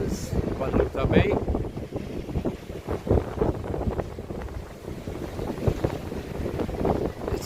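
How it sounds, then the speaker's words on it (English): Wind gusts across a bay and buffets the microphone in uneven rumbling bursts, with someone talking throughout. "It's quite windy here today."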